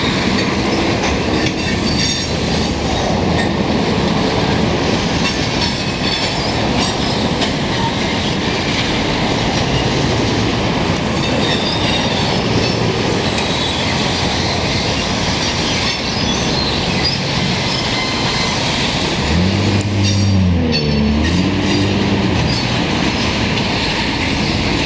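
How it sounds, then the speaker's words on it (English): A CN freight train with mixed freight rolls past on the rails for a long stretch at the Port of Montreal, wheels clattering and screeching steadily, loud and close, with deeper rumbling toward the end. "there's supposed to be a short CN train going through here soon"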